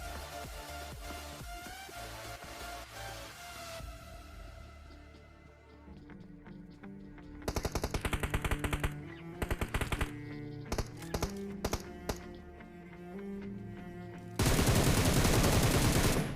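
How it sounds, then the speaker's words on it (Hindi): Gunfire rattles in the mobile battle royale BGMI, with sharp bursts of rapid automatic shots starting near the middle and a dense, loud volley at the end, over game music and effects. "और फायरिंग भी आती है"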